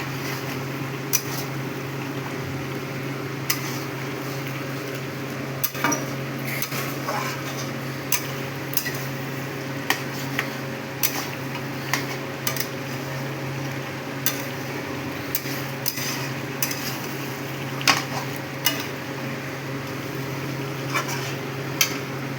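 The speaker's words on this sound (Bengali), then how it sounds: "এবার ভালো করে মাংসটা কষিয়ে নেব।" Goat meat being stirred and fried with turmeric in a pan, giving a steady low sizzle with scattered light scrapes and taps of a utensil against the pan, fairly close and with no one talking.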